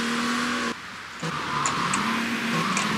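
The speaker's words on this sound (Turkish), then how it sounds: "Bakın şu an hızlı gidiyor bu araba." A car engine in Grand Theft Auto: Vice City – The Definitive Edition hums at a steady pitch, cuts out briefly, then resumes. Faint high chimes sound over it.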